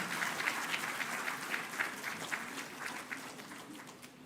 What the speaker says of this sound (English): Hooray! Applause.